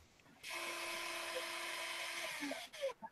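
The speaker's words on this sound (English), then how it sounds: "I hear Ryan drilling on something" A Kawasaki power drill runs with a steady high whine for about two seconds in a room, then slows and stops with a few faint clicks and knocks.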